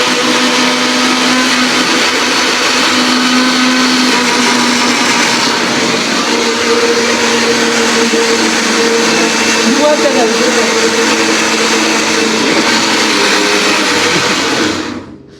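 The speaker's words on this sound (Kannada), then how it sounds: "ಮನೆ ಬರೋರು ಮಿಕ್ಸಿ ರುಬ್ತಾರೆ ಗಾಯ್ಸ್" A kitchen mixer grinder runs continuously at high speed, a loud steady whirring motor drone that holds for about fourteen seconds before cutting off abruptly.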